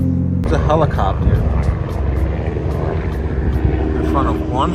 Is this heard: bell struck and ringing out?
no